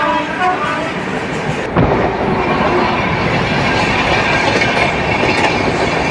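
Heard from on board the Swarna Jayanti Express, the train rumbles loudly and steadily along the rails, with a sharp jolt near the start followed by a continuous roar and faint wheel clatter.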